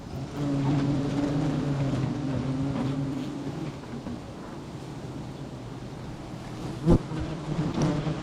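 Giant honey bees swarm around a low-hanging nest in a dense, steady buzzing hum that is close and constant, with a single sharp knock near the end.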